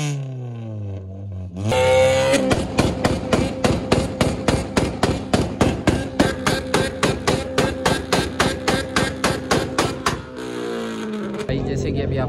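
Modified car at an auto show revs hard and its exhaust fires off a long run of rapid, evenly spaced loud pops, bracketed by engine drone before and after, with voices under it.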